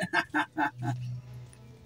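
A chicken clucks in a quick run of four or five short notes, followed by a brief low drawn-out call, fairly close and alone.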